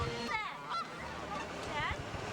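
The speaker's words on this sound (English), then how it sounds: "Geese, all right." Geese honking, several loud nasal calls in quick succession near the start and another honk toward the end, over a low background rumble.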